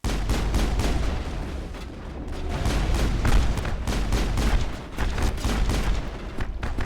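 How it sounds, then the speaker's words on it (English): Enemy gunfire in the video game Mass Effect: rapid, relentless bursts of shots and booms layered into a loud, continuous barrage. "They're shooting me very hard."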